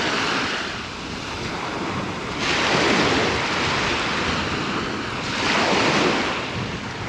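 Sea waves roll in on the beach at Swanage, Dorset, on a sunny September day, a close, continuous wash of surf swelling twice into louder breaking surges amid wind rumble on the microphone, with no talk.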